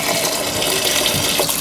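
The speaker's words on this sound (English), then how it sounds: "Now what I'm going to do is barely cover them with water." Water gushes and splashes loudly as it is poured over freshwater mussels in a pressure cooker pot, one short continuous pour heard up close.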